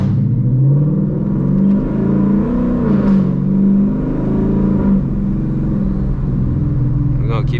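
Ford Mustang GT in sport mode accelerating in first gear on a lakeside drive, a loud close engine drone rising and falling in pitch, with someone speaking over it.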